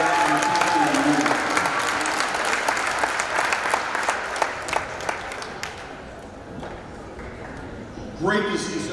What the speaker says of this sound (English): let's have a round of applause for the Teacher of the Year